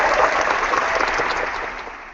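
Clapping at a live conference chat, a dense burst of applause that holds steady for about two seconds and then fades slightly.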